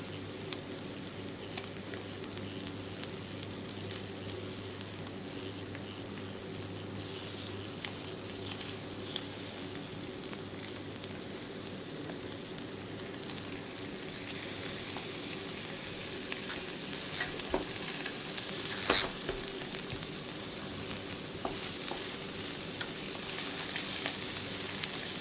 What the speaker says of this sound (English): I need to hear that sizzling.